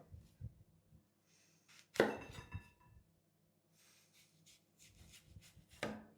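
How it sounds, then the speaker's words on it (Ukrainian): A very sharp knife slices peeled apples, giving a few soft, crisp cuts in a quiet kitchen, with the loudest stroke near the middle and another at the end. "очистили яблука, беремо дуже гострий ніж і будемо їх нарізати"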